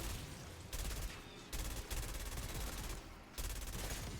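AK rifle fitted with a drum magazine firing in Black Ops 6 Zombies, loud rapid automatic bursts broken by short pauses, with the rattling fire close and continuous within each burst.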